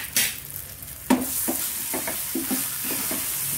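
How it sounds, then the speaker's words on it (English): Dal palak being stirred with spices in a pan: a faint sizzle under a series of distinct spoon scrapes and taps, one sharp knock followed by several quick stirring strokes, no speech. "Let us give it a good mix"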